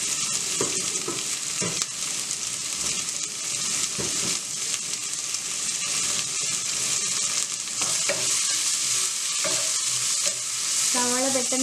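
Onions sautéing in a pan for vegetable noodles give a steady, close sizzle with stirring scrapes throughout, no talk over it.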